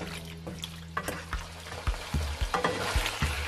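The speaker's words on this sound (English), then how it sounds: "You're gonna keep stir frying your liver until it's well browned" Oil sizzles steadily as beef liver is stir-fried in a pan, with scraping and clattering of a utensil against the metal, no voices.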